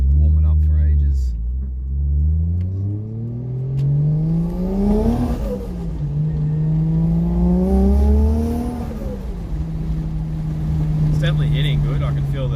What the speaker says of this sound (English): Should be able to put my foot down a little bit now, and it should build boost and feel pretty good